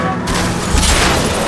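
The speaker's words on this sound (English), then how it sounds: "I'll try to shoot out his tires." Gunfire rings out in L.A. Noire as shots are aimed at a fleeing car's tires: a loud, dense burst of reports close up, with a voice speaking over the shooting.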